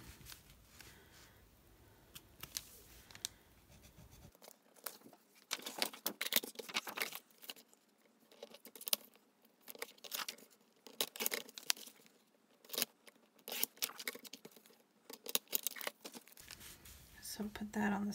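Scissors snipping through a paper planner sticker at close range, a run of quick, crisp cuts and paper rustles in a quiet room, with a soft low hum only at the start and end.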